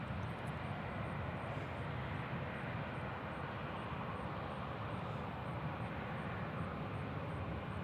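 A fixed-wing airliner rolls down the full length of the runway at Nashville International Airport on takeoff, a distant, continuous broad engine roar holding steady throughout with no speech over it.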